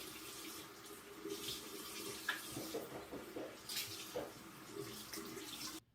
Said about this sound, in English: Now to go ahead and rinse.